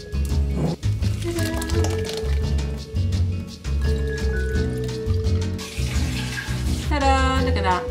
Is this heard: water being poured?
yes